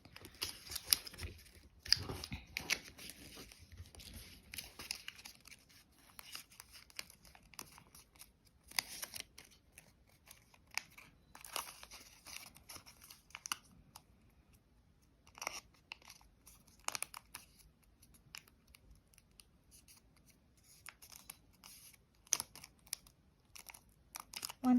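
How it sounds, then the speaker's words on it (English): Sheets of origami paper are folded and creased by hand, giving faint, scattered crinkles, rustles and crisp snaps in irregular bursts across a quiet background. "fold it back up, fold these back out, and then open up the square or diamond and fold the sides in"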